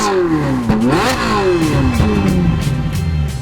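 A Ferrari 458 with a 4.5-litre V8 engine rated at 562 brake horsepower revs loudly and accelerates, its pitch climbing and shifting continuously in close, sustained engine noise without any voices.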